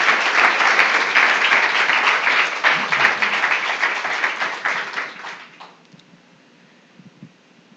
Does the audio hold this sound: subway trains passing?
no